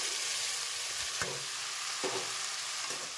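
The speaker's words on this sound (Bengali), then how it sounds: "এখন মাংসটা ঢেলে দেবো।" Chicken pieces frying and being stirred in a pan with onion and green chilli for chicken kosha, a steady close sizzle broken by a few stirring scrapes.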